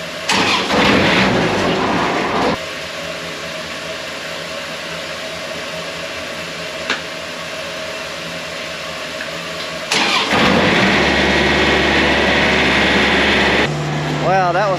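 A combine harvester engine at wheat harvest cranks over and catches, then settles into a steady mid-pitched rumble before revving louder near the end, with a voice speaking over it.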